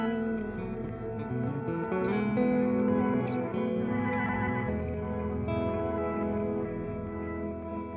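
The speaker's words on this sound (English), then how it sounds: "on the one engine we have reverse delay happening, and on the other engine we have granular happening" A sustained, dense guitar texture from a two-engine pedal setup, washed in heavy reverb, with swelling reverse-delay tones and shimmering granular layers blending continuously, no voices.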